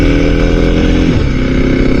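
A small, mechanically noisy motorcycle engine drones loud and steady on a chilly morning ride, with wind noise mixed into the constant close-up racket.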